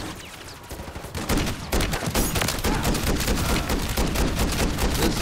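Sustained automatic gunfire from a Call of Duty Zombies match: a dense, loud, unbroken stream of rapid shots with no pauses, close and overwhelming, with no voices over it.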